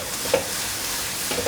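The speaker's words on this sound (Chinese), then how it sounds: "就一直不断的翻炒，把番茄炒软。" Tomatoes are stir-fried in a pan for a vegan taro filling, giving a steady, close sizzle with a few brief scrapes of the utensil and no talk.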